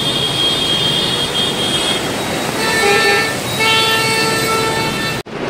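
Car horns toot and honk repeatedly in a traffic jam on a flooded street during heavy rain in Junagadh, the tones overlapping above a steady wash of traffic and water noise.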